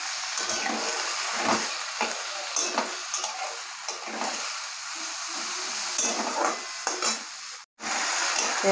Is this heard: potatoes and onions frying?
yes